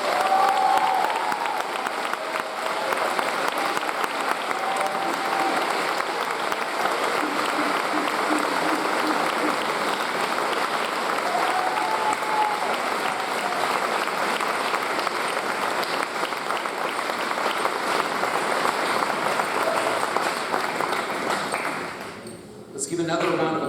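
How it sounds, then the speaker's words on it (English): A graduation commencement audience gives sustained applause for the valedictorians, broad steady clapping filling the hall with scattered cheers before it suddenly dies down near the end. "Let's give another round of applause for the valedictorians in 2021."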